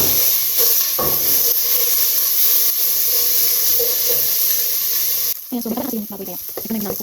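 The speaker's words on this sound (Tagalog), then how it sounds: "Ilalagay ko lang yung taba para patunawin ko at hindi na ako maglalagay ng mantika." Pork fat rendering in a hot pan for sinigang, a steady loud hiss and sizzle throughout, shifting to a busier crackling sizzle near the end.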